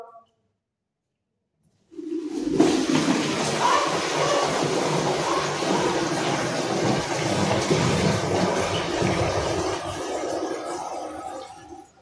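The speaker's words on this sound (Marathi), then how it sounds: "आता आपण पंपामध्ये पाणी टाकणार आहोत." Water pours steadily into the tank of a charging agricultural spray pump, a continuous rushing gush that starts suddenly after a brief silence and runs loud and unbroken to the end.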